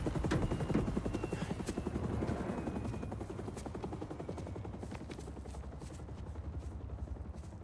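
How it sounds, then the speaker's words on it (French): Helicopters in the Spider-Man 2 video game, a dense rapid rotor chop that holds loud and steady throughout, slowly easing back toward the end, with no talk over it. "Ça a carrément appelé les hélicos, quoi."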